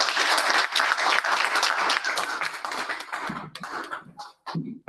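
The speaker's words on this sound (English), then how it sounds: "Can we have a huge round of applause, please?" A conference audience claps in loud, dense applause that thins out toward the end, with a few scattered claps trailing off.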